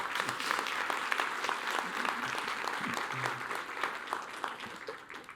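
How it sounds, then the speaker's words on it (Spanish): A church congregation claps steadily, the dense applause filling the room at moderate volume without pause and fading slightly at the end. "Sí, dele un aplauso."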